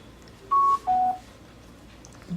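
A Sony SRS-XB31 Bluetooth speaker powers on with two short electronic beeps, the second slightly lower in pitch, played clearly in a quiet room.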